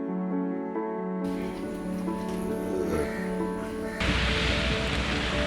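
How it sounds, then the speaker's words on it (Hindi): Steady rain pours outdoors in North Goa as a dense, even hiss with scattered drops, growing broader and louder near the end, no voices over it. "और फिर हम ऐसे ही निकल गए बारिश में।"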